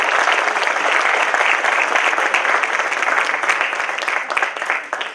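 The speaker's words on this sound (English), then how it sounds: "So can we have a huge round of applause," A large audience at a Mumbai start-up fest panel on fund management gives a loud, steady round of applause, dense clapping holding throughout before tapering at the end.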